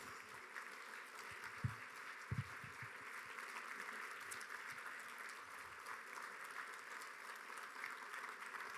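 A crowd at a Junior Achievement Business Hall of Fame event applauds students on stage, heard as a steady, fairly distant wash of clapping with a few louder nearby thumps.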